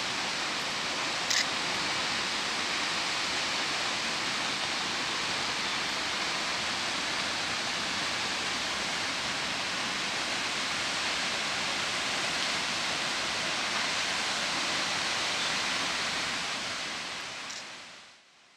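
A waterfall with a 100-metre drop in the Serra Catarinense, Brazil, roars as a broad, constant rushing wash of water, loud and unbroken for most of the stretch before fading away at the end.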